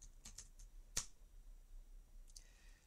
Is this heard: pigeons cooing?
no